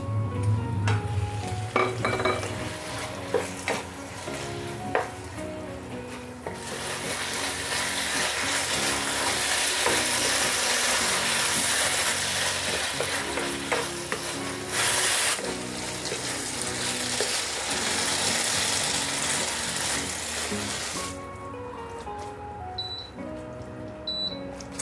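Beef stir-fry sizzling loudly in a hot pan after a tablespoon of rice wine is added, a dense steady hiss with stirring scrapes that swells mid-way and eases near the end.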